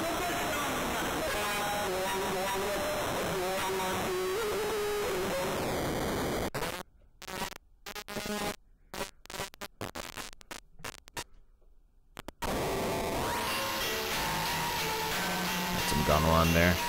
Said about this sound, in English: the distortion is very harsh, especially with the frequency and FM knobs all the way up